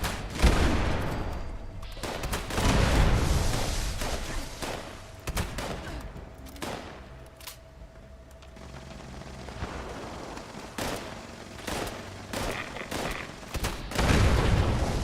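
Repeated gunfire in Fallout 76 pops throughout, with scattered single shots, rapid volleys and heavier booming blasts at moderate loudness over a continuous low game hum.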